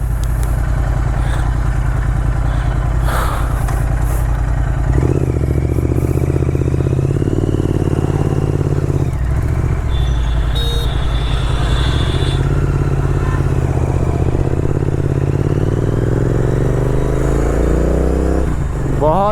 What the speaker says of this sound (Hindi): मैं बाइक चला रहा हूँ।